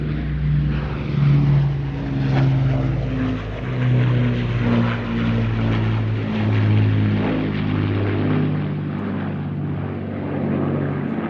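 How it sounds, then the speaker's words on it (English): A famous Merlin-engined propeller bomber flies at the Midlands Air Festival air show, giving a loud, sustained engine drone with a throbbing harmonic hum that swells and fades slightly as it passes. "One of the most famous bombers that will ever be."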